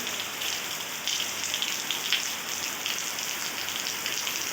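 Heavy rain pours down in a dense, steady roar of drops hitting surfaces nearby, loud and unbroken, with no one speaking.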